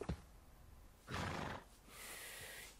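A horse in the Red Dead Redemption 2 video game gives a short neigh, followed by a breathy snort and a longer hissing exhale, after a click at the start.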